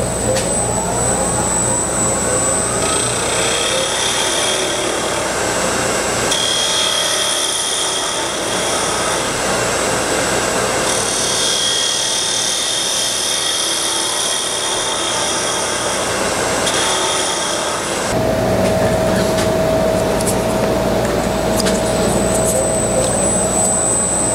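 A wood lathe turning a box elder lid as a small spindle gouge cuts, a loud continuous whirring drone with shifting tone as the cut changes, close up, with brief pauses and a change in pitch near the end.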